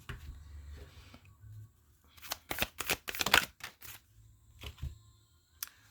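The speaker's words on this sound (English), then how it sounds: "I'm going to shuffle the cards" A deck of cards being shuffled: a rapid burst of crisp riffling flutters in the middle, with softer handling rustles before and after, close and fairly quiet.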